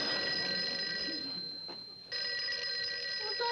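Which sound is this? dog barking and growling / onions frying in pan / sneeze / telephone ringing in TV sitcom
telephone ringing in TV sitcom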